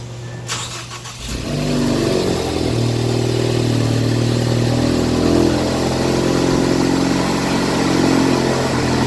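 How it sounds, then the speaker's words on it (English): A Ford Focus ST engine cranks briefly, then catches and roars to life, settling into a loud, steady rumbling rev that stays close and continuous. "we're gonna start the car"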